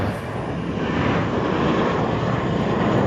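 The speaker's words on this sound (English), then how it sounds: "Lufthansa A340" A Lufthansa Airbus A340 airliner at LAX roars steadily and loudly with a broad engine rumble that holds for the whole span, close by and alone.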